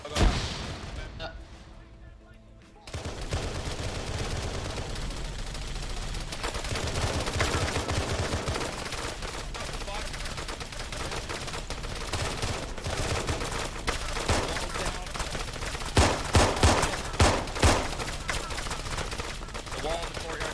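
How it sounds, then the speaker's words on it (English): Sustained machine-gun fire suppressing players in the Insurgency video game: a steady stream of sharp shots at mid distance, with louder bursts toward the end and voices talking over it. "I know it's an MG gunner suppressing us"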